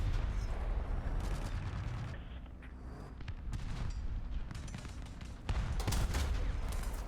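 Tank cannon fire in a tank combat video game, with repeated loud booming blasts and gunfire bursts over a continuous rumbling battle din, several shots landing close together.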